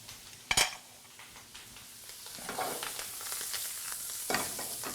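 Mushrooms with chili sizzle in a pan, a soft steady frying hiss with a sharp utensil clink near the start and occasional stirring scrapes, close and fairly quiet.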